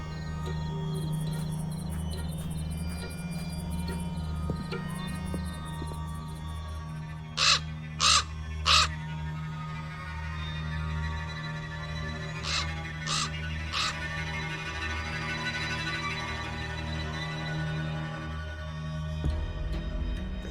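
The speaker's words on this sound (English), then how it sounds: "Damn bird again." A raven caws in short bursts of two or three harsh calls inside a quiet room in the Black Mirror 2 game, set over a low steady ambient hum.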